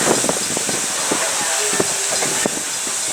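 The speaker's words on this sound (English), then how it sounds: "the engineer slowly brings old number 90 to a stop" Old steam locomotive number 90 eases to a slow stop, with a continuous hiss of steam, scattered clanks and faint rail clicks, and a low squeal drawn out in the middle.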